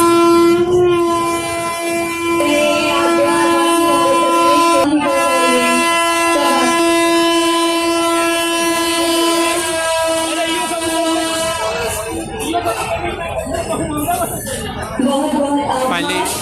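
A newly inaugurated Indian Railways train on the Mau–Anand Vihar route sounds a long, loud, sustained horn blast as it departs, over rumbling rail noise, with voices in the background.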